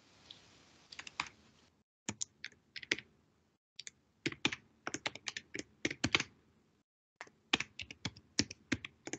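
Close keystrokes on a computer keyboard come in irregular bursts of quick clicks separated by short pauses, crisp and unaccompanied by speech.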